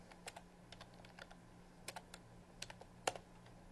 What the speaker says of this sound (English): Just going to type the create table statement.